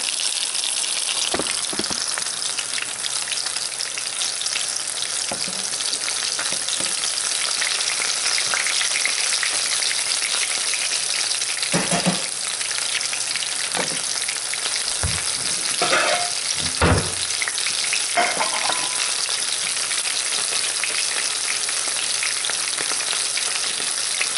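Chicken cutlets frying in a pan for a low-carb chicken parm, a steady dense sizzle running the whole time with a few louder crackles and pops and the clink of stirring or turning.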